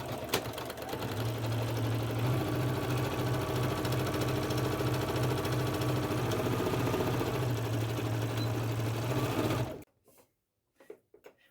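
A sewing machine stitching a quarter-inch seam on a fabric face mask runs steadily and close for about ten seconds with an even whirring hum, then stops, leaving a few soft handling clicks.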